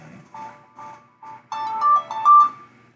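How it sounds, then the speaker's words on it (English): A phone ringtone from an incoming call, a loud close melodic pattern of repeated short tones that builds into a fuller, brighter phrase and then fades. "Oh, somebody's calling on my phone."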